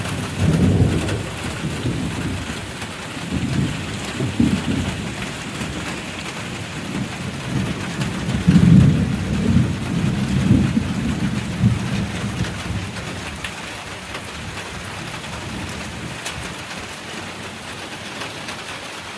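Heavy rain pours steadily during a thunderstorm that brings relief from summer heat, with deep rolling thunder rumbling repeatedly through the first two-thirds before easing into a constant hiss of rain.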